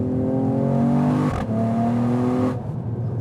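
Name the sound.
Mercedes-AMG E53 Coupé accelerating, 9-speed gearbox shifting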